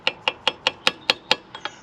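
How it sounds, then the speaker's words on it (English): Eight evenly spaced light metallic taps of a chisel on the metal casing of a Mercedes OM642 diesel EGR valve ring out one after another, crisp and close, with the last two slightly softer. "it's going to be a case of basically putting the chisel in it very gently"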